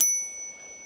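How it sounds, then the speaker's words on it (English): An Engwe branded e-bike bell gives one bright, sharp ring close by that rings on and fades within a second. "this bike has got my favourite bell"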